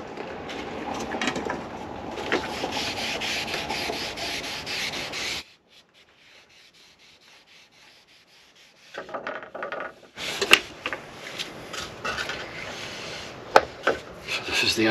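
A rag rubs and wipes residual epoxy off a sailboat surface during a refit, close scrubbing strokes in two bursts separated by a quiet pause.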